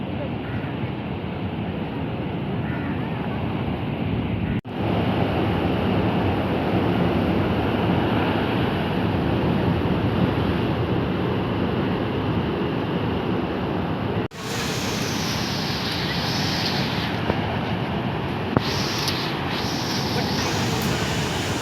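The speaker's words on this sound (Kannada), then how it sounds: "ಸಮುದ್ರದ ಅಲೆಗಳು ತುಂಬ ಜೋರಾಗಿ ಬರ್ತಾ ಇದೆ" Strong monsoon sea waves pound Kapu beach in Karnataka, a loud continuous roaring surge mixed with heavy wind buffeting the microphone, and people talk over it.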